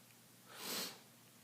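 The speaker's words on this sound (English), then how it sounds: "Sorry about the sniffing, I'm just getting over a cold" One single breathy sniff through the nose from a person getting over a cold, close to the microphone, rising and fading over about a second with no talk.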